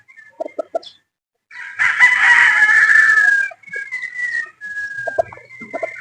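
A roundhead broodstag rooster crows loud and close, a long strained cock-a-doodle-doo, with short clucks before and after it. Someone says a few words near the end.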